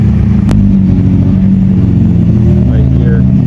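Idling Chevrolet Corvette engine, a loud, steady low rumble close by with a Z06 and a ZR1 on show at a car gathering; people talk over the engine noise throughout.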